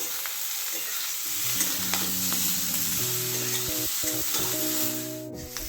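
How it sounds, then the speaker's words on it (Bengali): Vegetables frying with salt and turmeric for a winter spinach chorchori, a steady close sizzle with stirring scrapes and clinks of a spoon against the pan throughout, no voices. "আর একটু হাফ চামচ দেড় চামচ নুন দিলাম আর হাফ একটু অল্প হলুদ দিলাম হাফ চামচ ভালো করে ভাজতে হবে"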